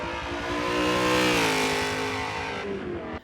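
A BMW M5's 4.9-liter naturally aspirated 400-horsepower V8 revs loud and close, its harmonic note climbing and holding for a few seconds before dropping away.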